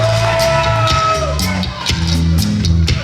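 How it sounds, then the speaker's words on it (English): A wrestling arena crowd roars and shouts for Carlito's entrance, a loud continuous wall of cheering and yells with entrance music tones underneath. "Oh, listen to this crowd. They explode as Carlito has made his appearance"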